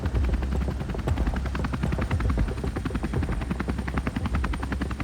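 A rescue helicopter hovers over the ocean, its rotor thumping in a fast, steady rhythm under a loud, constant engine drone that fills the whole stretch.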